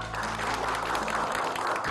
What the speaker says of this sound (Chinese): 下面让我们以最热烈的掌声，再次送给今天的新郎新娘。